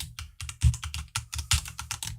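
Typing on a computer keyboard, close and fairly loud, in quick uneven bursts of key clicks with short pauses between groups and a few heavier thumps.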